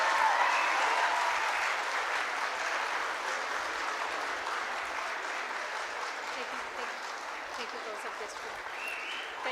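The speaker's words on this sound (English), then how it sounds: "Please give a big round of applause." A big round of audience applause at a conference session, dense sustained clapping from a large crowd that starts strong and tapers slightly over several seconds, with faint voices underneath.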